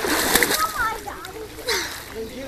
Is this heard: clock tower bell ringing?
no